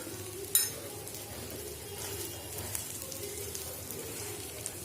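Egg dosa frying in oil on a pan, a soft continuous sizzle and crackle with a brief sharp clink of a utensil early on, close and quiet.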